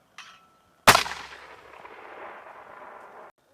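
Artillery gun fires during a large allied military invasion exercise in Europe's far north: a small pop first, then a single loud, sharp blast that rolls into a long echoing rumble over about two seconds before cutting off.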